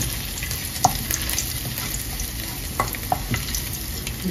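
Ginger frying in hot olive oil in a pan, a continuous close sizzle with scattered soft crackles and light stirring knocks, with no talking.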